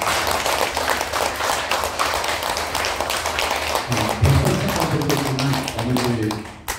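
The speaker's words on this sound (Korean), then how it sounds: "박수 한번 해주세요." Lecture audience clapping in a quick, dense patter of many hands, loud and close, mixed with murmuring voices, as a deeper voice begins speaking partway through over the fading applause.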